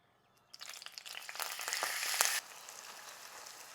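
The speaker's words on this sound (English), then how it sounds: "Just gonna let that fry for about 5 minutes on that side." Shoestring hash brown potatoes hit hot avocado oil, setting off a rising crackling sizzle with sharp pops that builds for a couple of seconds, then drops to a quieter steady fry.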